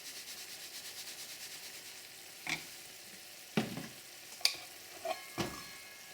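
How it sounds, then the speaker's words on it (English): Chicken of the woods mushroom simmers in a covered pan with a faint, steady low sizzle, broken by a few sharp scrapes and knocks near the end. "I just cover it and leave it to slowly simmer"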